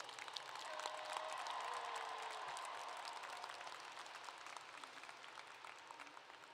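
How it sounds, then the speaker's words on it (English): An audience at a high school graduation ceremony gives the graduating seniors a steady round of applause, a faint, even wash of many hands clapping that lasts several seconds and slowly tapers off. "Give them a round of applause this morning."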